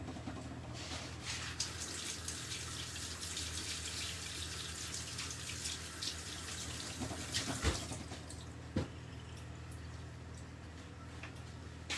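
Broccoli is rinsed under a running kitchen tap, giving a steady, fairly soft stream of water splashing over the florets for the whole stretch, with a couple of brief knocks near the end.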